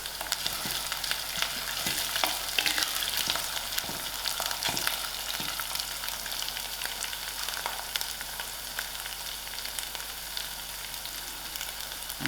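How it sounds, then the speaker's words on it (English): Mustard seeds fry in hot oil for a chickpea chutney, giving a steady crackling sizzle with scattered sharp pops throughout. "And then I'm adding my mustard seed to fry with."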